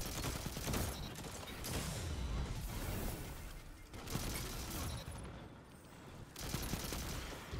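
Sustained machine gun fire in a video game runs almost nonstop, dense rattling bursts with brief dips, loud and close throughout.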